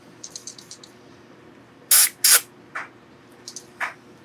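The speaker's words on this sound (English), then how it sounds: "A little contact cleaner here." DeoxIT contact cleaner sprayed onto the contacts of a Makita BL1815 power tool battery: two loud short hissing bursts close by, followed by softer brief spritzes and small clicks.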